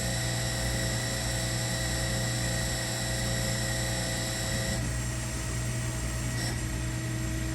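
A Harig Bridgeport 618 EZ-Surf CNC surface grinder runs a reciprocating program, giving a steady, fairly loud mechanical whine and hum with sustained tonal ringing that continues throughout.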